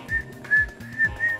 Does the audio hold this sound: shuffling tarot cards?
no